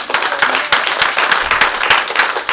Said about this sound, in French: Applaudissez vraiment si vous êtes pour applaudir.